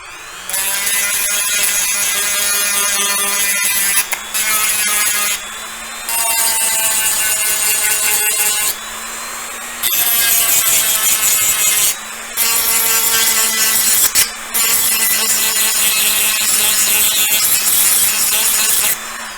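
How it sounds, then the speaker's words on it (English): A handheld Dremel rotary tool sands 3D printed baffles in loud, sustained bursts of high whining grind. Several short pauses break the run, and the motor pitch dips and recovers as it bears on the plastic. "I found it easier just to, and quicker just to use my Dremel. So this is going to be loud for a second"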